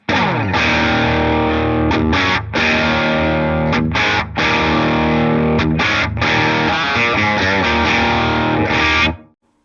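Heavily distorted electric guitar chugs through a stock amp tone, continuous riffing with brief gaps, loud and close, no talking.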